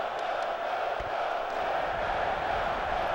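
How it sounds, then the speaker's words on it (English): A stadium crowd in NCAA 04 college football, with North Carolina facing NC State, roars and cheers in a loud, sustained wall of noise that stays at full volume throughout. "Crowd going crazy right now."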